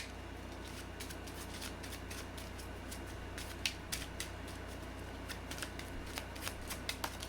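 Tarot cards are shuffled continuously with a soft, steady riffling close by. The sound stays quiet throughout, and a few light taps and flicks appear toward the end with no speech.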